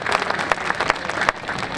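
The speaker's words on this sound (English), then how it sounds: "250 students, and you give yourself a round of applause." Students at a Texas Independence Day celebration opening ceremony clap in a sustained, fairly loud round of applause with crowd noise, alone without speech.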